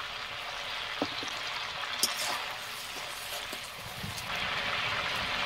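Sugar frying in oil with cumin and bay leaves in a pan for chicken kosha curry sizzles with a continuous dense hiss, a few light clicks and crackles scattered through it.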